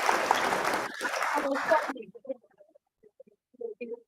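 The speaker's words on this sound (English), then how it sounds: "So a round of applause for this." Audience applause at the Ife-summit summer coding bootcamp closing ceremony in 2023: a dense, lively burst of clapping for about two seconds that cuts off abruptly, leaving only scattered faint voices and small room noises.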